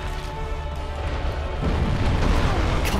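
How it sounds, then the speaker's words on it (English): A Dark Souls explosion attack rumbles as a dense, loud, low roar that swells and grows heavier toward the end, with no clear speech over it. "God, the freaking explosion."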